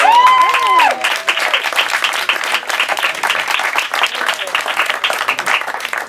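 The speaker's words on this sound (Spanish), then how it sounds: "un aplauso para él" At a flamenco dinner show in a restaurant, diners applaud percussionist Miguel el Nene. Sustained crowd clapping sets in after about a second, following a brief opening of voices and tones, and carries on loud with uneven bursts.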